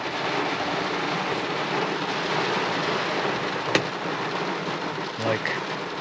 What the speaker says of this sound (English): do you hear all of this rain?